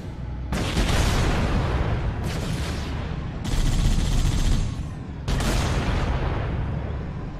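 Heavy gunfire in Halo: The Master Chief Collection, loud close bursts in four long blasts separated by brief gaps, dense and booming, with no talk.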